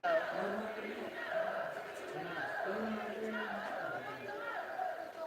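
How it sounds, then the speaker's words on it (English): Boxing arena crowd chanting Nico's name during a Nico Hernández fight, a rhythmic repeated two-beat chant rising from a large audience, steady and continuous beneath the hall's general roar. "The crowd chants Nico"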